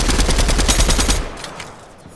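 Loud, fast automatic gunfire in a Fortnite gunfight, a dense run of evenly spaced shots that breaks off abruptly and leaves a fading tail.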